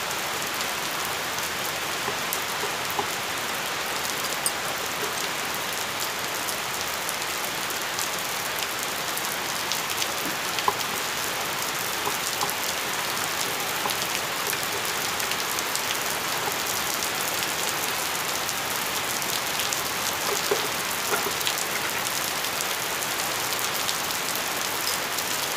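Steady rain patters on a surface, a constant dense hiss of droplets with occasional louder drips, nearby and unbroken throughout.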